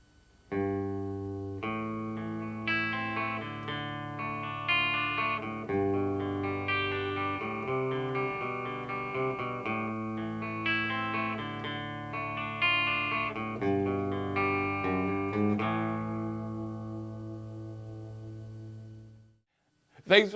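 A riff at full tempo on guitar, picked and chorused chords flowing continuously, close and loud with no voice, ending in a brief cutoff and a small knock.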